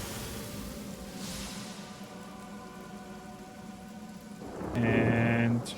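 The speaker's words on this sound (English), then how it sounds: "let's drop out a rain." Steady rain from a rain spell in Divinity: Original Sin Enhanced Edition pours throughout with a low rumble like thunder, then a brighter, louder tonal burst swells near the end.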